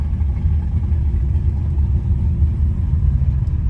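A 1980 Pontiac Trans Am Turbo engine pulls hard under acceleration, a loud, steady low rumble heard from inside with no clear shift breaks.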